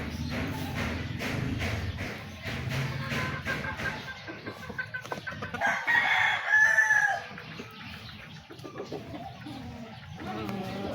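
A seven-month-old White Kelso gamefowl rooster crows loudly and close up around the middle of the clip, with clucking and shuffling before and after and other fowl calling in the background.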